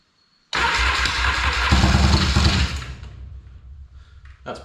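An engine fitted with two carburetors cranks and catches, bursting into a loud, rough rev that settles into a steady idle, close up, with a brief click near the end.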